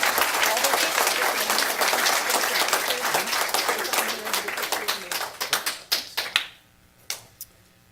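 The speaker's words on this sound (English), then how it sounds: "So a round of applause, please." At a city council meeting, a crowd gives dense, sustained applause for a youth 11U All-Stars baseball team, then it thins to a few scattered claps before quiet.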